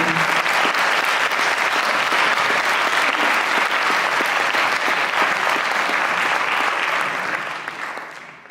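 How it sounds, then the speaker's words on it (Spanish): An audience gives sustained, loud, dense clapping after a talk on the history of the number one. The applause stays even for about seven seconds before tapering off at the end. "Un fuerte aplauso."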